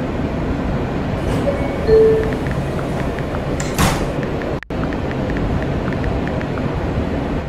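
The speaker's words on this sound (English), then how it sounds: "Please step back from the closing doors." Subway car doors on a B train slide shut with a brief rumbling hiss and a clunk, set against steady train interior noise, then a sharp cut and the low hum continues.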